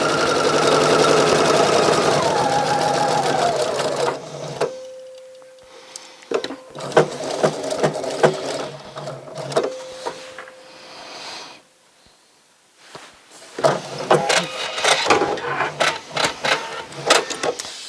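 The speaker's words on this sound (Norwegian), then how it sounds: "Så syr jeg rett ned." A sewing machine runs a straight French seam through two pieces of fabric laid right sides together, edge to edge. It hums steadily at first, then stops and restarts in a few shorter bursts with pauses between them.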